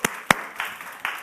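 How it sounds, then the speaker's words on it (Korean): A church congregation claps in thanks, heard as a few sparse, separate hand claps spread over a second, fairly close and with no talk. "우리가 먼저 감사의 박수로 시작하도록 하겠습니다"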